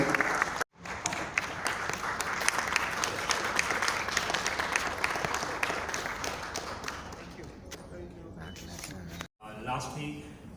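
Audience applause welcoming a new team member at a health services launch event, sustained dense clapping from a gathered crowd that fades out toward the end, with brief speech after.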